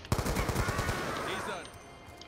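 In Black Ops 2, shotgun blasts sound as a rapid cluster of sharp, booming shots at the start. They fade into a reverberant tail with scattered game noise, and a voice is faintly present underneath.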